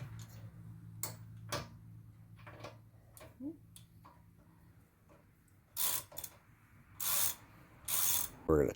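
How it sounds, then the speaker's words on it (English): A ratchet clicks in short, separate bursts while tightening lug nuts on a 2018 Chevy Cruze LT, heard close up with pauses between turns and louder bursts near the end. "Now we're going to tighten them up with a ratchet."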